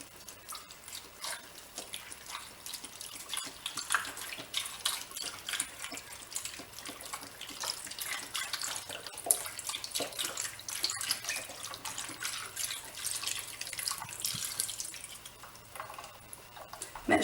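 A 32-ounce carton of chicken broth is poured over a pork tenderloin in a crock pot, giving a steady, soft, continuous splashing trickle with no talking.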